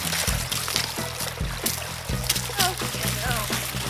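Dogs, one a purebred Great Dane, splash and slosh through a brook, with water churning steadily close by while people talk over it.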